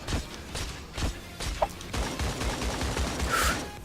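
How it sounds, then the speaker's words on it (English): Bursts of AK rifle fire ring out in the shooter game Creative Destruction, a rapid volley of cracks followed by further scattered shots and game effects, with no voices. "Darren takes one good tag out of that AK"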